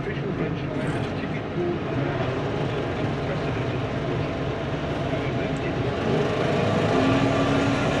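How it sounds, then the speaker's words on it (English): Air brakes engage on a tractor during a silage day, a steady loud hiss and rumble of running machinery holding evenly throughout, building slightly toward the end, with no speech heard. "Air brakes on."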